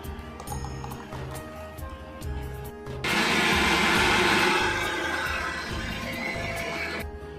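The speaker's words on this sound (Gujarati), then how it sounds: "હવે આપણે આ મિશ્રણ જે રહ્યું છે ને એ આપણે આમાં બધું ઉમેરી દઈશું અને આને સરસ રીતે આપણે ગ્રાઇન્ડ કરી દઈશું" A mixer grinder blending a homemade ice cream mixture, a rhythmic motor chugging at first, then surging into a louder, fuller whirring roar for several seconds before easing back.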